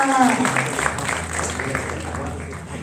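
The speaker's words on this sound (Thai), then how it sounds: "ขอเสียงปรบมือ" A crowd at the IMI Show 2025 innovation exhibition in Thailand claps for the presenters, with a voice speaking briefly at the start.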